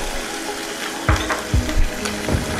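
Red chilies dropped into hot oil with garlic in a home kitchen pan, giving a few brief crackling pops and bursts of sizzle over a low steady frying hiss, with no talking.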